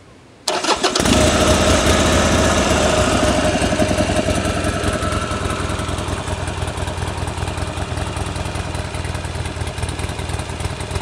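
A Harley-Davidson XR1200 motorcycle engine cranks and fires, then settles into a loud, steady, rumbling idle close by.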